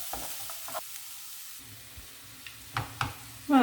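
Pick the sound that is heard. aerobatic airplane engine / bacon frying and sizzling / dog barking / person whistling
bacon frying and sizzling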